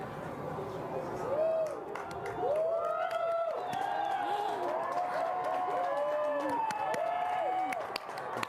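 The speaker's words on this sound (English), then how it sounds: "Everyone is cheering." Crowd cheering and whooping during an annular solar eclipse, a steady wash of many voices with rising whistles and shouts of excitement lasting throughout.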